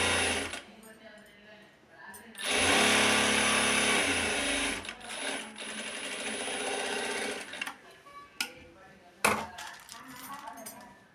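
A sewing machine stitches a blouse in close, loud bursts, with a steady whirring run in the middle and shorter starts and stops around it, broken by a few clinks; no one speaks.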